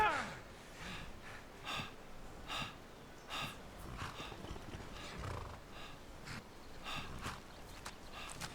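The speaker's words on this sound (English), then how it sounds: "you'll hear that deep breathing sound" Deep, heavy breathing of a character at low stamina in Skyrim, repeated gasping breaths in a steady rhythm, fairly quiet, with soft footstep-like thuds beneath.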